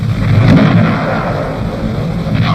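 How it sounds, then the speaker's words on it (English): Naval gunfire from the destroyer Arunta during the Balikpapan landing, a loud, dense rumbling boom that swells early and rolls on without a break. "Arunta opens fire."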